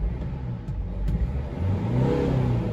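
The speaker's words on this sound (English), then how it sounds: "That is what a Mercedes Sprinter should sound like when you rev it." A Mercedes Sprinter van engine is revved: a close, mid-pitched engine note climbs as the revs rise in a short burst, with no talk over it.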